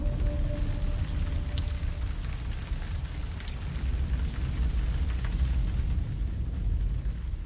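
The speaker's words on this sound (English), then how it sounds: "the sweltering heat gives way to the monsoon showers" Monsoon showers fall steadily, a dense broadband patter of rain on surfaces with a low rumbling undertone, even and continuous throughout.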